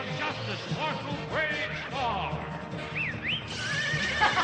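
A cartoon horse in Bravestarr lets out a loud, wavering whinny, with soundtrack music and effects around it.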